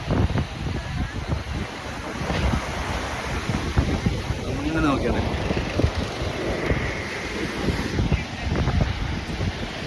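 Sea waves at Thalassery beach roll in as a broad wash of surf under gusty wind noise, with people talking nearby over it.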